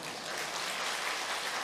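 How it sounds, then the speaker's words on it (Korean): Applause from a congregation at a Korean church men's mission devotional service, a steady dense patter of clapping filling the whole moment with no voices over it. "박수 치지 마세요."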